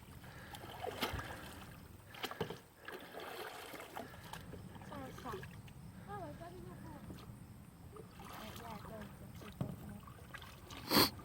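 A new kayak on its first outing moves through water with soft, intermittent paddle swishes and light splashes, ending in a sharper splash, while voices talk quietly nearby.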